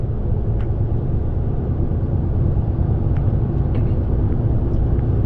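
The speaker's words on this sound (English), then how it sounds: "traffic's getting a little bit more heavier now" Road traffic heard from inside a Class One delivery vehicle heading to South London: a continuous, loud engine and tyre rumble with a few faint ticks on top, no one talking.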